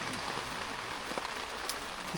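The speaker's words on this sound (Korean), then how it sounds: "와비 오고 미쳤네. 빗소리 짱이다." Steady rain falls at a rainy-day campsite, a dense, even hiss of drops pattering on surfaces close by, with no pauses, a few slightly louder drips standing out from the wash.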